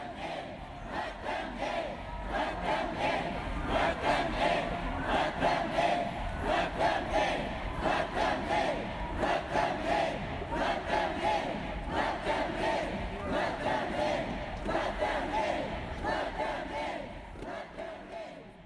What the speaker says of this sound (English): You want to hear what the crowd sounded like?